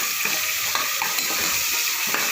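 Tomatoes frying in a pan with turmeric and salt for pulao, a steady close sizzle broken by a few soft stirring clicks and scrapes, with no voices.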